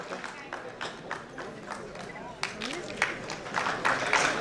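An audience at an award ceremony claps to welcome MLA Vishwas Sarang, the applause starting as scattered, uneven claps and swelling to fuller, denser clapping toward the end.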